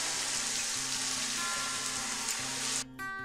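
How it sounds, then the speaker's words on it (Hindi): Ginger garlic paste and onions frying in a pan for carrot rice, a steady close sizzle with low stirring clatter, cut by a brief break near the end. "अदरक लहसुन का पेस्ट, हल्का सा भून लेंगे।"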